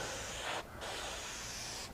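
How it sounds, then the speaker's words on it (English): Close aerosol spray of CA glue activator into a wood end-grain crack: a loud steady hiss, a brief pause, then a second long hissing burst. "spray some activator right in that crack"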